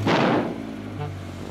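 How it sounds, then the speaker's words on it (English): Engine of a cartoon monster truck in a children's garage show gives a short, loud rev, a rough burst at the start that quickly dies down into a low idle hum. "Let's have a nice loud rev."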